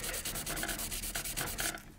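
Abrasive sanding rubs back and forth along the groove of an MGN12 linear sliding rail in rapid, rhythmic strokes, close and fairly quiet, about eight passes in two seconds.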